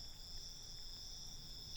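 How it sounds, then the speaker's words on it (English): Steady, shrill insect chirring of cicadas across a field at night, a continuous high drone with no talk over it. "other than the cicadas chirping"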